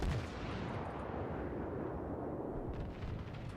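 Battleship main guns fire a salvo in the naval combat game World of Warships, heard as a heavy, continuous booming roar that fills the whole stretch at steady loudness, with no talking.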